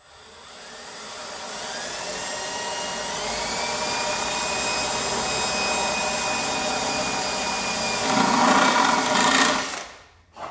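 Cordless drill with a stepped Christmas-tree bit boring through a supercharger housing, a steady close whine that rises and roughens near the end before cutting out, with no talking.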